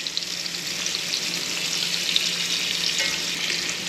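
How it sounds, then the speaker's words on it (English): A porterhouse steak searing in brown butter in a pan gives a steady, loud hiss and crackle of frying, with small pops scattered through and no talk. "I at least want a few minutes to get a good sear on at least one side of the steak."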